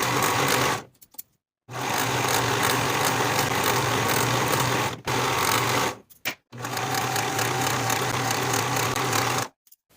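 A sewing machine finishes the raw edges of jumpsuit fabric pieces with a steady, loud, close motor whir. It runs in three long stretches broken by brief stops.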